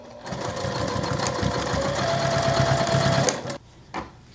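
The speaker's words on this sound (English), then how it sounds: "And then I sew diagonally across there" A sewing machine stitches diagonally across cork strap pieces for a crossbody bag, a steady close mechanical whir lasting about three seconds before stopping, followed by a faint handling noise.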